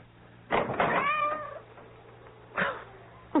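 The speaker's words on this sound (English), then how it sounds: "That cursed cat." A cat meows at a front door in the middle of the night: one long, wavering meow, a shorter follow-up cry a couple of seconds later, and faint knocking sounds, all in a quiet room.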